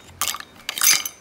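Ice cubes dropped into a glass of lemonade, two quick bright clinking clatters a half second apart, close and crisp with quiet between.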